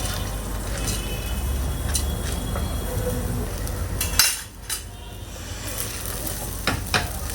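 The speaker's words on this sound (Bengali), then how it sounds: "চালগুলাও একটু ভাজা ভাজা করে নিব পেঁয়াজ আর গরম মশলার সাথে" Steady sizzling of rice frying in a pan with onion and garam masala, with occasional stirring scrapes and a brief dip in the hiss partway through.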